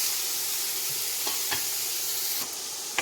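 Cluster beans sauté with masala in a pan, giving a continuous close sizzle and hiss with a few soft stirring scrapes and taps.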